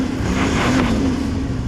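Toyota 79 four-wheel drive driving off-road over rocks on a track: a loud, steady engine drone with a low rumble and slight pitch rise, close to the microphone, no talk.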